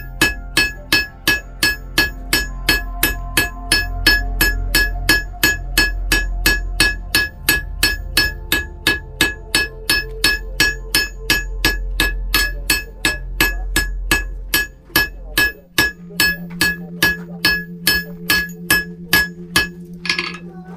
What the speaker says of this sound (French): Quelques coups de burin et quelques coups de marteau pour le petit dessin.